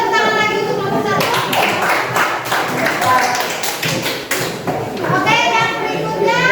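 A student group in a classroom gets a round of applause, dense hand clapping with scattered taps and children's voices talking over it, loud and close throughout.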